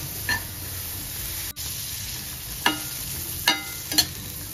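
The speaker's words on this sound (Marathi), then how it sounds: "याच्यात पण थोडंसं बटर टाकणार आहे. जास्त नाही, थोडंसं टाकायचं आणि छान फ्राय करून घ्यायचं." Vegetables fry in a little butter in a pan, a low steady sizzle broken by a few sharp stirring scrapes and clinks near the end.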